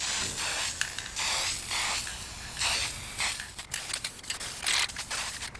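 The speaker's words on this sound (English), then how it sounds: "Let's give it a quick coat, just a little top coat of some urethane." Urethane top coat sprayed onto a skull European mount in a series of close hissing aerosol bursts, each lasting about a second with brief gaps, growing choppier toward the end.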